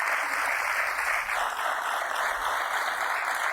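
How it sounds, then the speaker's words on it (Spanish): A studio audience at a 1993 Spanish television programme applauds with steady, even clapping that holds at the same level for several seconds, with no talking over it. "Pueden aplaudir si quieren, sí."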